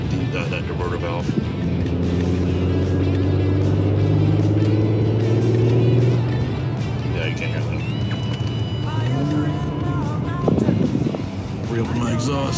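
A car engine with its exhaust valves closed revs up and down in long rising and falling sweeps, with hissing blow-off from the diverter valve between revs; the sound is close and loud, with talk partly over it.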